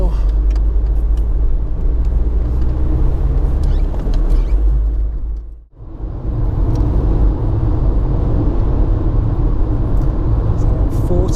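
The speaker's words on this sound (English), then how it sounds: "let's gradually get up to speed now, so we can do 70" A TDI diesel car, a 2020 Seat Leon or 2005 VW Golf, gradually accelerates on the road toward 70 with a steady low engine drone and road rumble, briefly dipping mid-way, while a voice talks over it.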